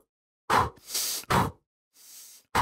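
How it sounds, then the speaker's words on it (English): Close, forceful breaths during a kettlebell sprint come as short sharp bursts, inhaled through the nose and exhaled at the top of each rep, in a quick alternating rhythm with brief silent gaps. "I purposely inhale through the nose and exhale again at the top fixation"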